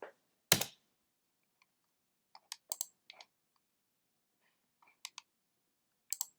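Computer mouse clicks while navigating a food diary website, heard as a sharp click near the start and then scattered light clicks in small pairs and clusters, close and quiet with no talking.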